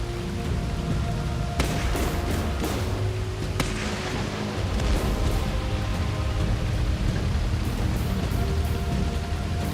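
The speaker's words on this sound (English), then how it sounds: "And there it is, it's raining now." Heavy rain pours steadily in the video game Trials Evolution, a dense continuous hiss, with sharp thunder cracks breaking through twice and fainter rumbles following. No voices are heard.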